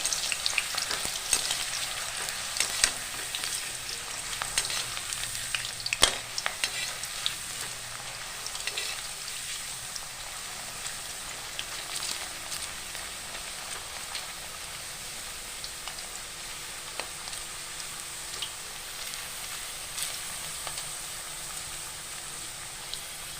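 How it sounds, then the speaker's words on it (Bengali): Thin potato chip slices sizzle steadily in hot oil, a dense crackling fry that continues throughout with faint clinks and stirring, no voices present. "একটু সময় করে সময় নিয়ে ভেজে নিতে হবে"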